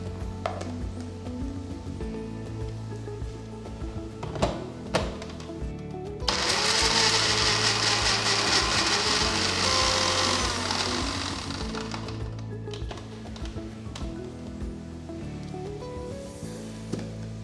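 A mixer grinder whirs loudly for about six seconds, grinding Kashmiri chilli powder, garam masala and turmeric into a masala for chicken mappas, between quieter kitchen clatter before and after.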